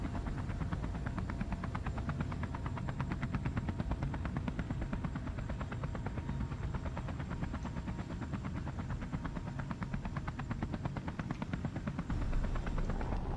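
A helicopter's modded rotor blades in Space Engineers produce a steady, fast, low chopping thrum that stays even and continuous throughout, with no voices.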